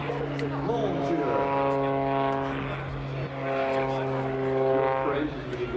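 A Lycoming-engined aerobatic airplane tumbles through a flat spin at an air show, its propeller drone loud and steady with pitch swells and dips, while a commentator talks over it.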